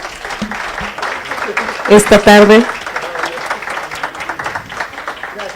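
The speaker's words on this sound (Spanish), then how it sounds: "vamos a brindarles un fuerte aplauso" An audience at an international ombudsman conference gives sustained applause, a rolling patter of clapping that carries on while a speaker talks over it briefly.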